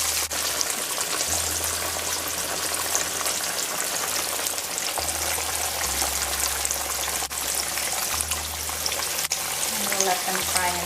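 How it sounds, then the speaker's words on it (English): Flour-coated fish frying in hot oil for a Guyanese fried fish dish, with a steady, close hiss and crackle of sizzling throughout and faint clinks now and then. "Let them fry until they're golden brown on one side"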